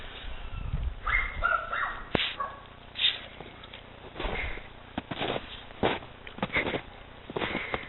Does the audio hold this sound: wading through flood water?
no